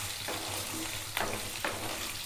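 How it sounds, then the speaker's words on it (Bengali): Potatoes frying in a pan for a Bengali mustard-poppy seed dish, a steady broadband sizzle with a couple of sharper stirring scrapes, close and fairly quiet, no voices. "আলুটা ভালো করে ভেজে নেব।"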